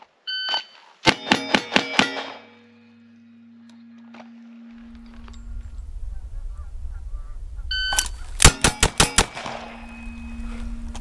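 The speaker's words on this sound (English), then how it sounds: "when the beeper goes off, I draw and try to put five on that steel" A shot timer beeps, then a handgun is fast-drawn and fired at steel targets with live ammunition, a rapid string of about five loud, close sharp cracks; the sequence of beep and quick shots repeats a second time.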